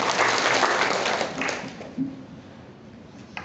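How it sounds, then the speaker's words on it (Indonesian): An audience at a regional women's organization assembly applauds in a steady, somewhat distant wash of clapping that tapers off, with a faint voice briefly audible. "Tepuk tangan untuk kita"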